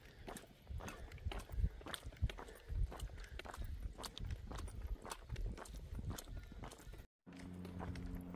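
Horse hooves clip-clop at a steady walking pace on a small road, a rhythmic series of sharp knocks on a hard surface, fairly close, with a brief dropout near the end.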